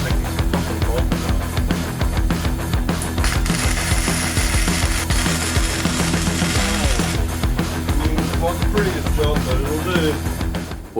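A ratchet wrench clicks rapidly and repeatedly while bolts are loosened from a homemade steel bashplate on a Honda CR-V. The rattling ratchet and mechanical clatter run continuously and loud, with a voice speaking briefly in the mix.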